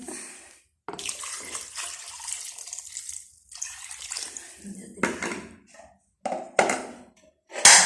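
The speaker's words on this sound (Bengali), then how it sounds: "জল দেবো" Water splashes and pours into a pot during the cooking of a fish curry, in several uneven close bursts separated by short silences, with some clattering of pans and no clear talk.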